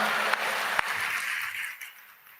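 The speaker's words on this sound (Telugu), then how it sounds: "చప్పట్లు కొట్టి దేవుని మహిమపరచు గట్టిగా హల్లెలూయా" Applause from a church congregation glorifying God during a sermon, a steady wash of clapping with a couple of sharp claps that gradually fades away.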